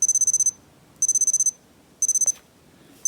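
Alarm 1 of a Citizen JG1071 Digi-Ana Marine watch: three bursts of rapid high-pitched electronic beeps, about half a second each and a second apart, thin and clear against a quiet room.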